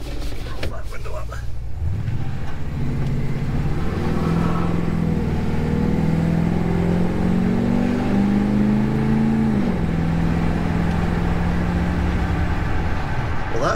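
A 1977 Chevy C10 pickup with Fitech EFI, running very rich, pulls away and drives, its engine note climbing steadily through the gears and holding a loud, continuous rumble from inside the cab.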